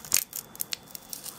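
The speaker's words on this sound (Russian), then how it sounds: "И стик мы открываем руками" A powder sachet stick is torn open by hand, giving a quick sharp rip followed by a few faint crinkles and ticks of packaging, close and quiet, with no talk.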